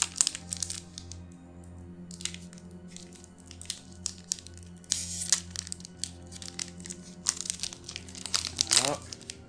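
Crinkling foil and crackling as a Dragon Legends trading card booster pack is handled and torn open, close and uneven with sharper crunches and a quick rip near the end, with faint talk underneath.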